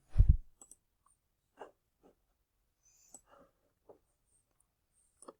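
A computer mouse on a Windows 10 PC clicked several times, sharp single clicks spaced irregularly through a quiet room, close and soft, with one louder thump at the start.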